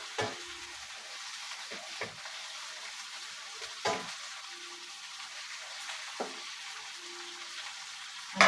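A spoon scrapes and knocks now and then while chicken adobo fries quietly in a pan, the stirring coming as sparse, distinct strokes over a soft, steady sizzle.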